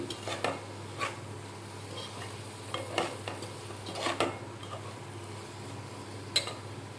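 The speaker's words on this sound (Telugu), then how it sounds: "లో ఫ్లేమ్లో ఎట్టి వేయించుకోవాలి ఒక నిమిషం వేయించుకుని అప్పుడు రెయ్యిలో గుడ్లు వేసుకుని" Prawns and eggs cook in a pan over a low flame with a soft, steady sizzle, broken by scattered clicks and scrapes from stirring against the pan.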